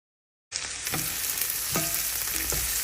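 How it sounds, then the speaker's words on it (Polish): Chopped onion hits a hot pan and sizzles loudly at once, settling into a steady close fry with a few scrapes of stirring. "Potrzebuję zeszklić cebulkę"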